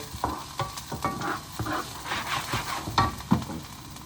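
Red onions sizzling in a hot pan as they are stirred, a steady close crackle with repeated scraping strokes of the utensil against the pan.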